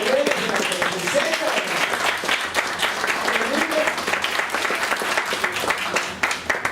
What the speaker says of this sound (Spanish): Denle un aplauso grande a los